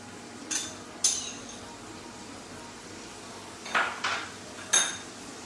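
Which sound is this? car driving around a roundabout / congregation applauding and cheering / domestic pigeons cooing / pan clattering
pan clattering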